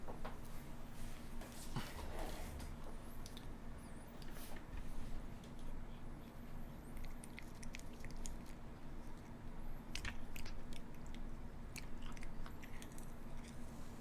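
A pet chews a dental treat up close, with faint, irregular bites and crunchy squishes over a low steady room hum.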